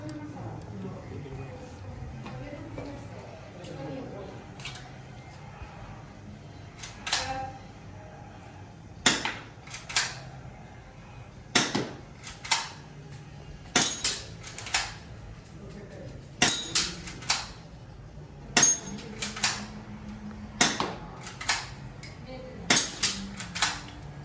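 A toy metal Colt 1911 pistol, the Galaxy G13+, snaps out a series of sharp metallic clicks, irregular at first and then coming faster, while someone talks quietly in the background.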